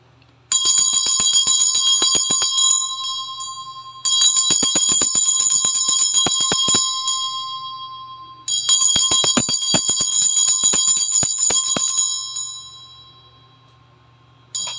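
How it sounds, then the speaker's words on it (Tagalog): A Tibetan bell is rung three times for cleansing, each strike blooming into a bright, sustained metallic ring with shimmering overtones that fades slowly before the next, close and clear with no talk. "mag-cleanse muna ako using this Tibetan bell,"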